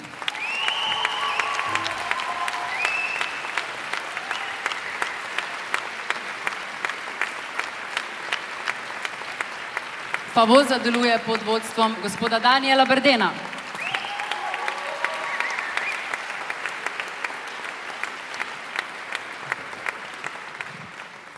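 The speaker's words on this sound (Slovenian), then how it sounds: "Velik aplavz za njih, prosim." A concert audience applauds a boys' vocal ensemble at a school celebration, with steady, sustained clapping throughout while a host speaks over it and a brief sung chord rises in the middle.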